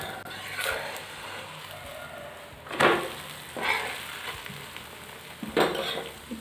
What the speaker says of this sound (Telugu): రెండు వైపులా కూడా ఆయిల్ వేసుకొని చక్కగా కాల్చుకోవాలి బ్రౌన్ కలర్ వచ్చేంత వరకు